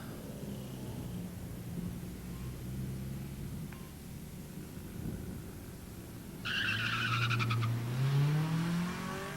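A two-wheel drive Mitsubishi Eclipse and a Honda drag race at the 1999 Battle of the Imports, with a low engine drone and brief tire noise, then a loud rising engine whine as the cars launch and accelerate away.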